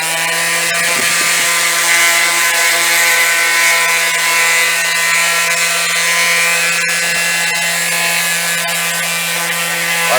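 A machine sander with 2000 grit paper floats over an oxidized surface, giving a loud, steady, droning whine with a constant hum that runs unbroken throughout.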